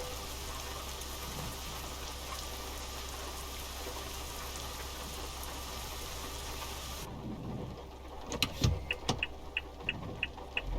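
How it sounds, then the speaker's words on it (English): Steady in-game rain pours inside a truck cab in Euro Truck Simulator 2 with the ProMods map, a constant broadband hiss over a low engine drone, then quieter near the end with a few sharp ticks and knocks. "Great, it's raining."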